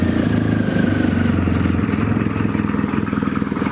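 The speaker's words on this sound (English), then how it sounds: "make sure to start the engine to test the function of the bike" A motorcycle fitted with Weiser LED driving lights and turn signals idles steadily and close by, its low engine note running evenly and alone with no talk.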